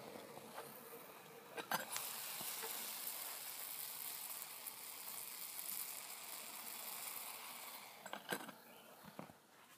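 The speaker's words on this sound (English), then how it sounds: "I've got this to a boil, and I'm going to stir it a little while" Slumgullion stew boils on a stove with a steady bubbling sizzle throughout, broken by a few sharper knocks and scrapes of stirring near the start and end.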